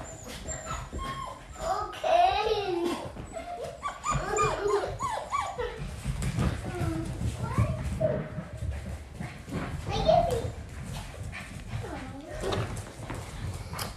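Puppies playing indoors near a couch, with small yips, whimpers and high squeaky barks scattered across the stretch, close by, and scuffling paws in between.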